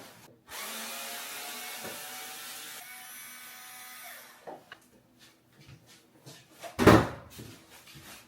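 A power drill whirs loudly for several seconds while struggling against small stripped screws during a DIY house renovation, then stops, followed by scattered clicks, handling knocks and a sharp bang near the end; no talking.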